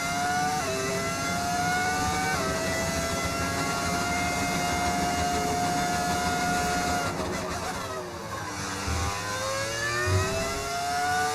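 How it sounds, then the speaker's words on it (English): The V10 engine of an F1 car in the F1 25 video game screams at high revs, holding long steady notes with abrupt gear-shift drops and a rising climb near the end, loud and close. "That is the beauty of the V10 engine, is what you're hearing."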